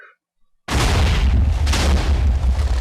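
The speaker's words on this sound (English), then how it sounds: "And what a cluster bomb does is basically spews small explosives outwards and then blow up there." Cluster bomb from the Minecraft ICBM mod goes off after a short silence: a sudden loud, deep boom followed by a rumbling roar of smaller bursts that keeps rolling to the end.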